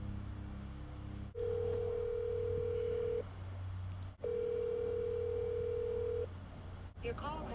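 Outgoing cell phone call ringing, two long even ringback tones separated by a pause over a low background hum, quiet and steady.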